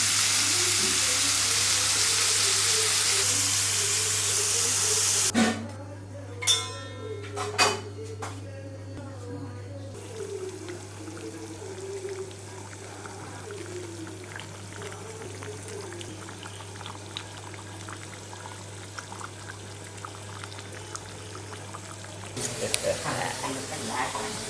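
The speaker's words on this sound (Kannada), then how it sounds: "ಈಗ ಇನ್ನೊಂದು ಬ್ಯಾಚ್ ಫ್ರೈ ಆಗ್ತಾ ಉಂಟು" A batch of chicken for Chicken Afghani fries with a strong continuous sizzle at first, then gives way to clattering pans, utensil clinks and a quieter bubbling fry under a low steady hum, with people talking.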